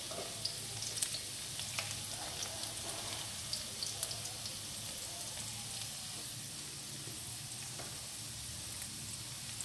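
Chopped garlic frying gently in olive oil over a low flame, a soft steady sizzle with faint scattered pops and light crackles throughout, no talk.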